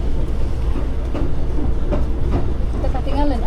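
KRL commuter train on the Depok–Bogor line departing, with a steady rumbling roll and faint rhythmic clicks from the rails, fairly loud and continuous, with people talking nearby.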